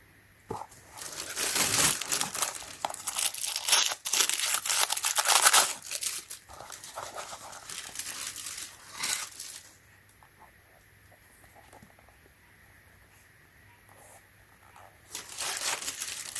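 Crinkling plastic packaging handled while unboxing Journee shoes, a close, busy rustle in bursts for the first nine seconds, quieter crackles after, then a final burst near the end.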